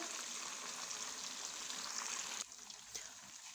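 Chicken frying in a pan for a degi steam roast, a steady close sizzle that drops to a quieter hiss near the end.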